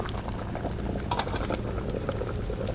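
Bamboo shoots boiling in a pot, a steady bubbling, simmering wash with small pops scattered throughout, close and continuous with no talking.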